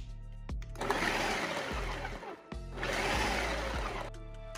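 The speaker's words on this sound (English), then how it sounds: "let's go ahead and put this cauliflower inside the food processor" A food processor mincing cauliflower runs in two loud, whirring pulses of a couple of seconds each, with a short pause between them, heard up close and alone.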